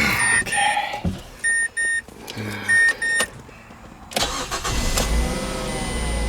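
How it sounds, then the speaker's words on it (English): A 2009 Mazda 5 is started after a serpentine belt replacement: dashboard warning chimes beep in short repeated bursts, then the engine cranks and catches, settling into a loud, steady idle heard close up without talk. "Start the car, make sure everything's running properly."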